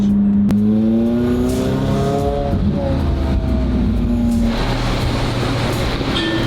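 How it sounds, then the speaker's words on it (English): A car drives along with a steady engine drone and a rising then falling tone as it accelerates, loud and close, with road noise throughout and no talk. "All the stress driving this car right now."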